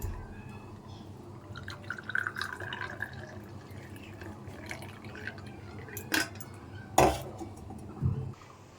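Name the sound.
tea being strained and poured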